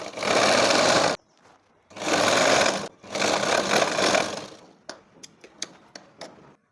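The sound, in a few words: sewing machine stitching a folded hem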